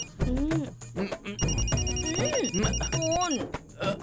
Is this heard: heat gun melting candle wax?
no